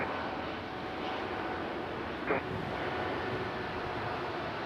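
An Airbus A220 airliner passing at Raleigh-Durham International Airport, a steady broad engine roar at moderate distance that holds level throughout, with a brief faint tone partway through.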